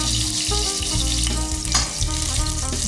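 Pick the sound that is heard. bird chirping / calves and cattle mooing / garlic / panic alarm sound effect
garlic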